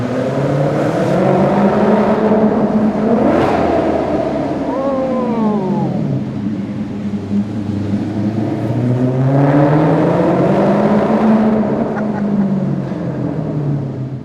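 A Maserati GranTurismo engine revs hard nearby, its loud, rich note sweeping up and down through two big swells, with a steady mechanical roar throughout.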